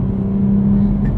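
A 2023 Toyota Supra with a 6-speed manual pulls hard under acceleration, a steady, loud droning engine note heard from inside the cabin for about a second.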